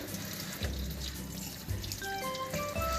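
Raw chicken, about a kilo of chopped pieces, being rinsed under a running kitchen tap, with a steady splashing water stream, low rumbling flow and brief faucet tones near the end, close and continuous.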